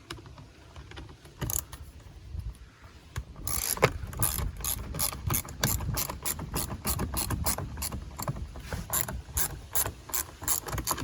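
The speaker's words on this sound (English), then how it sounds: "I have a little, like a ratchet thing." A ratchet wrench clicks in quick repeated bursts while working on a leaking transmission cooler line of a 2011 Lincoln MKZ, with a sharp rhythmic pawl ticking close by and no talk.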